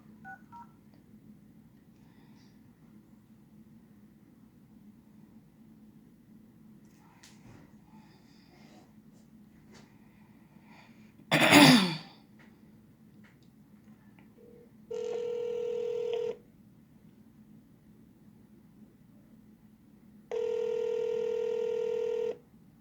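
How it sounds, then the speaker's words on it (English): A phone number is dialed on a telephone, with a quick series of DTMF keypad tones, then two long, evenly spaced ringback tones follow in a quiet room. "I'm gonna try Jackie Netta. And it has an old number"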